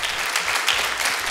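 Applause from an audience for musicians of a folk ensemble at a concert, a dense steady clapping that runs without a break and without voices.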